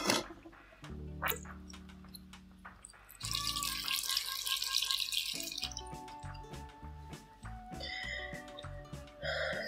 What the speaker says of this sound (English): So I'm making sure to water this baby really well